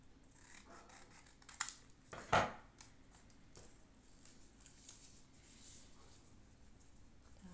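Scissors cut a dart on a paper garment pattern, giving a couple of sharp close snips around the two-second mark amid a quiet room with faint rustling.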